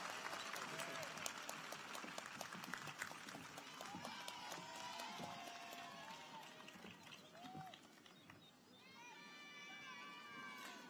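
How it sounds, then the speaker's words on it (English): Large crowd applauding at a university commencement, a broad clapping wash with scattered cheers and whoops that softens toward the end. "Let's have some applause for this great teacher."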